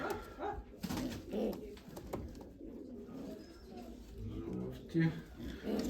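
Pigeons at a pigeon keeper's loft in Tsarychanka give soft low cooing calls under steady talk from several people nearby, with a dog barking briefly.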